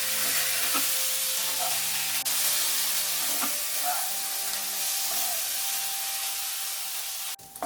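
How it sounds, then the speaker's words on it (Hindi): Smoked paneer tikka sandwich filling of paneer frying in a pan over a low to medium flame gives a steady, soft sizzle with faint hiss and occasional small pops. "अभी इसको लो टू मीडियम फ्लेम में 7 से 8 मिनट तक फ्राई करेंगे।"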